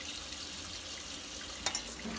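Cold water runs in a soft, steady stream from a tap into a bowl for corn tortilla dough, quiet and close, with a couple of faint splashes near the end and no talk.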